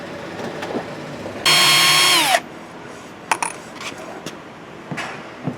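A power tool removes rub rail bolts from a fibreglass boat hull: one loud, high whirring burst of about a second that winds down, followed by scattered clinks and knocks of loosened parts.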